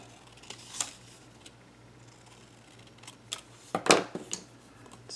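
Paper being cut on a WRMK tab punch board, heard as a few sharp, close clicks and snaps spread apart, with one louder crisp snap near the end.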